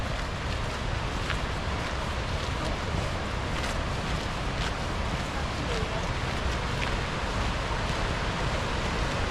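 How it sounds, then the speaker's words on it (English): A steady, dense roar of rushing water from Bracklinn Falls, broad and unbroken like a nearby waterfall, constant in loudness throughout. "we must be getting close to the waterfall, so we can start to hear it now"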